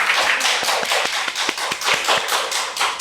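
An audience at a seminar claps, with dense overlapping hand claps that stay loud and steady throughout and no talking.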